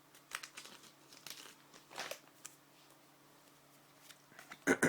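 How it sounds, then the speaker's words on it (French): A Pokémon card booster pack crinkling and crackling as it is handled and cut open with scissors, soft intermittent foil rustles that end in a louder close snip and crinkle. "je peux les ouvrir avec une paire de ciseaux."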